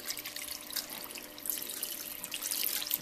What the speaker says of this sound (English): And I always put about 4 cups of water